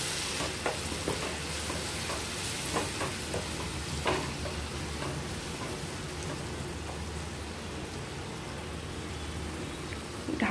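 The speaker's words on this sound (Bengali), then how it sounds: "দিয়ে ভালোভাবে মশলাটাকে কষিয়ে নেব।" Spice paste for a ridge-gourd and potato curry sizzles and fries steadily in a pan, with repeated scraping stirs throughout. The sizzle stays continuous and close, with no voices.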